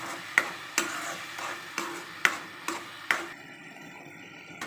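Mango pieces stirred in melting, caramelizing sugar in a pan, with a run of sharp spoon clacks and scrapes at an uneven pace, fairly close and clear, then a softer hiss.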